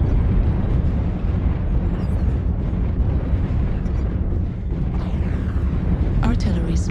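Artillery strike explosions land in a mech combat video game with a DRG-5N heavy mech, a sustained heavy rumbling roar of blasts with sharper bursts late on, loud and close.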